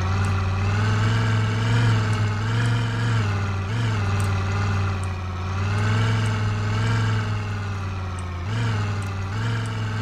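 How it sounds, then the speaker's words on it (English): A car engine runs steadily in the Project Zomboid video game, a loud continuous drone with slow rises and dips in pitch as it revs during a storm. "hopefully the sound of the storm will kind of muffle the sound of our engine"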